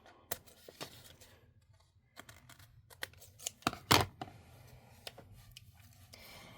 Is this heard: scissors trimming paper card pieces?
yes